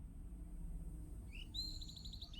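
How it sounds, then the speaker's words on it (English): A bird call plays from a speaker in a subway station in a video game, a quick run of bright repeated chirps that arrives suddenly over a constant low rumble of underground ambience. "this is the subway speaker they put in so you hear a bird"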